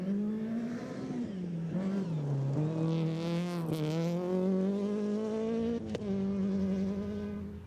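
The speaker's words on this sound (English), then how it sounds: "Let's have a look at Gerald Klopper and Johan Okamp bringing the Toyota Etios home." A Toyota Etios rally car heads for the finish on the final stage of a national championship rally, its engine buzzing and revving through shifting pitches as it passes from fairly close, with no talk.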